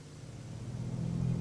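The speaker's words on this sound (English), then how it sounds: "Now, in normal driving like this, we're just using the V6." A sports hybrid car cruising on its 253-horsepower V6 petrol engine, which drives the rear wheels, gives a steady low engine rumble that swells gradually louder over a short stretch, with no other sounds over it.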